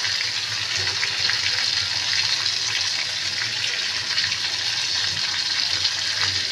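Finely chopped onion fries in hot oil in a pan beside pabda fish, a steady, even sizzling hiss that continues without a break and with no talking.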